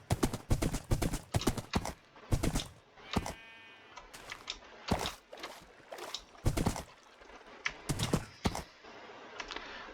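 Hooves of a horse ridden in Minecraft clop in rapid, uneven bursts of loud dry clicks with brief pauses between runs, close and continuous over ten seconds.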